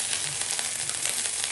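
Prawns sizzle loudly in hot oil as they go into a wok with a ground paste, a brief, steady, close crackling hiss.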